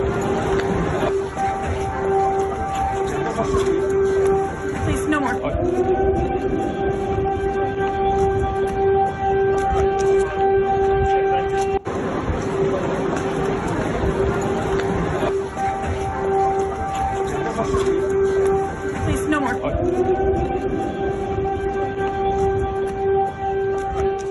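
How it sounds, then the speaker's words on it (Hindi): A loud, sustained air raid siren wails continuously, its pitch rising and falling in slow cycles over a noisy crowd-like background, during the Russia-Ukraine war. "पीछे जो सायरन बज रहा है उसको सुनिए भी"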